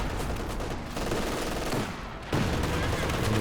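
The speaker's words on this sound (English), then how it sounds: "Machine gun into the middle." Machine gun fire in the World War II strategy game Company of Heroes 2, bursts of rapid shots that rise and fall in loudness over a few seconds, with no voice heard.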